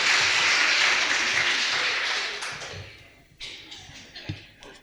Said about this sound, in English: A round of applause for Auntie Ethel, please, everybody.